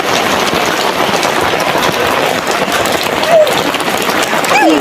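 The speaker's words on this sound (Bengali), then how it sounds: "বৃষ্টি" Steady, loud rain falls outdoors on children playing and getting soaked, a dense continuous wash throughout with brief voices and small cries over it.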